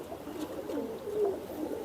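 Racing pigeons coo softly on a rooftop loft, a few low, rolling calls rising and falling close by over faint background hiss.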